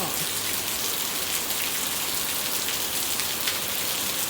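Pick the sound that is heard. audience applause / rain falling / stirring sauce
rain falling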